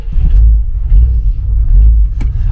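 An Audi A1 engine runs roughly, giving a loud, uneven low rumble that pulses and surges throughout with a few faint rattles on top.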